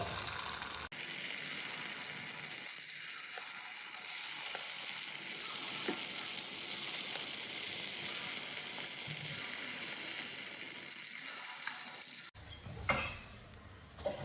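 Kuzhi paniyaram batter sizzles in the hollows of an oiled paniyaram pan, a dense, steady frying hiss that fills the whole stretch with a few soft clinks near the end.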